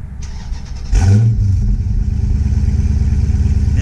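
A 2015 Dodge Charger R/T Scat Pack muscle car fires up by remote start: a starter clatter, then a sudden loud roar at about one second settling into a deep, steady idle rumble close by.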